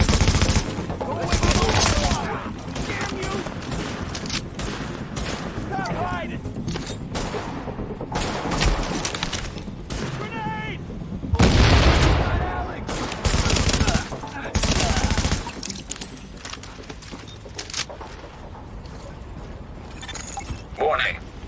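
A firefight in the video game Tom Clancy's The Division: loud, repeated bursts of automatic gunfire and single shots, with heavy booming blasts in the middle. The shooting comes in irregular waves over about twenty seconds.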